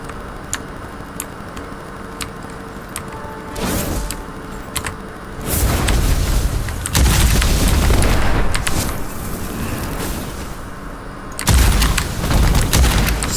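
Shotgun blasts and heavy explosions in the dark-fantasy shooter Witchfire, with sharp ticking clicks early on, then loud booming bursts from about four seconds onward and dense, repeated blasts filling the latter half.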